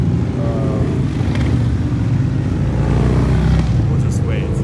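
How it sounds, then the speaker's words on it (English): Motorcycles pass along a road in the countryside as a continuous loud rumbling engine drone, close and steady, with a voice speaking under it. "This is like motorcycle country here."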